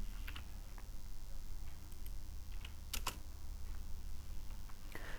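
Keys clack on a computer keyboard while a Ctrl+E shortcut is pressed in Microsoft Word, a few sharp, close taps standing out over a low steady background noise.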